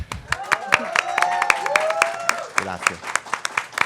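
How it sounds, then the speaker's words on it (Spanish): An audience at a book presentation at the FIL Guadalajara book fair breaks into crisp, scattered clapping, close and lively, while a voice speaks briefly over it. "Y por favor, pues un aplauso."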